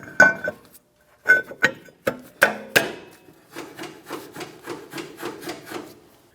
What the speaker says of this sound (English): want to be able to hear a light touch of the shoes on the inside of the rotor